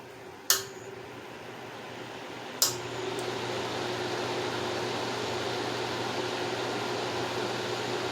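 A 1950s Wizard hassock fan runs on low speed with a steady, even whir and faint hum, preceded by two sharp clicks like switch or handling noises near the start.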